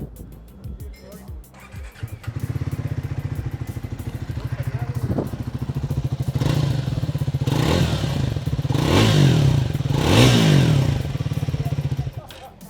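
A motorcycle engine running close by, revving repeatedly in rising bursts over a steady idle rumble, with some mechanical clatter.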